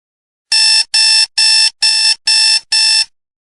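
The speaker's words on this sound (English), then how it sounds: "this alarm clock went beep," Six loud, evenly spaced electronic beeps ring out in a steady rhythm, each a sharp high tone with brief gaps, and nothing else around them.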